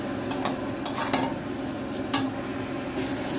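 Boiled mushrooms stirred into a pan of cooking curry, a soft steady sizzle with occasional scraping and clinks of a spoon against the pan, close and moderately loud, no talking.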